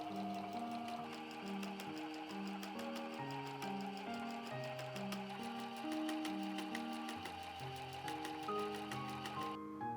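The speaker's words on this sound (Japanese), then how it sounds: "そしたらミシンでステッチしました。" A home sewing machine runs a fast, continuous stitch along the pieced fabric of a patchwork bag, a steady mechanical whir. Background music plays throughout, and the motor noise is mostly masked beneath it.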